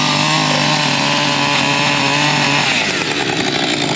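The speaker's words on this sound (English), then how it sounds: "so we'll sacrifice the chainsaw." Chainsaw cutting wood during storm-damage rebuilding, a loud, close, continuous high-pitched engine snarl with the pitch dipping as the chain bites, no voices.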